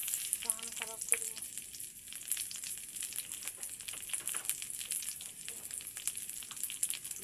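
Raisins, walnuts and cashews frying together in a pan give a steady, faint hiss and sizzle with small crackles, heard close and on its own for several seconds.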